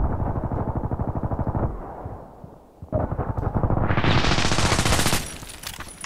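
A PDR-C submachine gun fires rapid, dense bursts in the shooter game Contract Wars, loud and close, with a short pause before a longer roaring volley that trails off.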